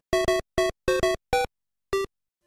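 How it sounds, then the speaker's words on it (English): Two NES pulse-wave channels from the Super Mario Bros. theme, isolated on an original console at 50% duty cycle, play a hollow, square-toned burst of short staccato notes in an uneven rhythm, then silence. "Here's how the 2 pulse wave channels sound when isolated."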